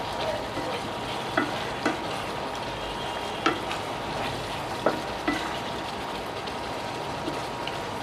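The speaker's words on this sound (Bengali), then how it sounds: "এবারে আমি গরম মশলাটা দিয়ে একটু নাড়াচাড়া করে নামিয়ে নেব" A spoon scrapes and stirs papaya and egg curry with garam masala in a pan over a low, steady sizzle, with a few distinct knocks and clacks against the pan at irregular intervals.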